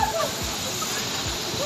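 Fast-flowing water at Hogenakkal waterfall gives a steady, broad rushing roar that fills the whole clip beneath voices talking nearby.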